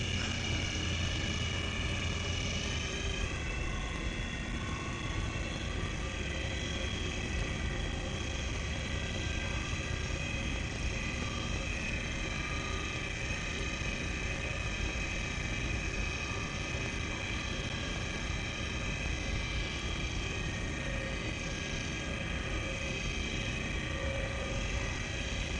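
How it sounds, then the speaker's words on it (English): A spaceship thruster that is out of balance in the Star Citizen video game gives a steady, continuous engine drone with a tonal hum, holding constant and fairly loud for the whole stretch with no talk over it. "Definitely got a thruster that's still out of whack."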